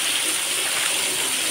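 Rainwater from a hill rushes down as a small waterfall near a temple, a loud, steady broadband gush of water with no pauses, close and alone.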